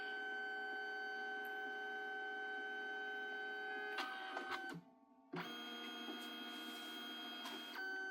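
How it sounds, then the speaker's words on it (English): A Liene PixCut S1 photo and sticker printer printing yellow, humming with steady mechanical tones and a brief clunk and pause partway through, then resuming its whirring drone, close and alone. "So it's printing"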